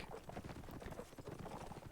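Horse hooves galloping in a Norden versus Russia video game match, a steady fast clip-clop rhythm running throughout under dense battle noise.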